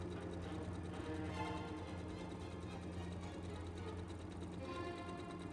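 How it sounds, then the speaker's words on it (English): A home sewing machine stitches the inside yoke of a shirt, a continuous low mechanical hum with rapid needle rattle, steady and fairly quiet throughout. "Then I sew the inside yoke along the inside of the shirt."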